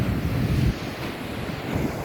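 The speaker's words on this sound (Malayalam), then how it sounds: "കടൽ നല്ല ആർത്തിരമ്പുന്ന തിരമാലകളാണ്" Roaring sea waves at Manjeshwaram beach on an early morning make a continuous, loud wash of surf mixed with gusty wind buffeting the microphone.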